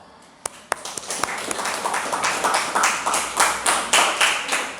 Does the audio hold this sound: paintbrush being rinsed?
no